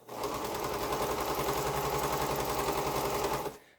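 Quilt seam stitched on a sewing machine at a quarter-inch allowance, a steady, close, continuous motor whir that runs evenly for over three seconds, then stops abruptly.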